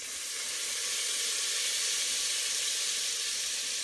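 Garlic sizzles in a hot pan, giving a steady, close hiss of frying that holds at an even level, with no talk over it.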